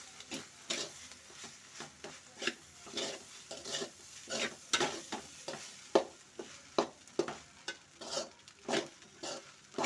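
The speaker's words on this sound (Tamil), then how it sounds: "இப்போ மசாலாலாம் சேர்த்துலாம். வாங்க மசாலா சேர்த்தாச்சு. இப்போ மிக்ஸ் பண்ணிடலாம்." A spoon stirs masala into egg rice in a pan, giving repeated scraping and clattering strokes at an uneven rhythm, fairly close, with a soft sizzle beneath and a brief spoken word.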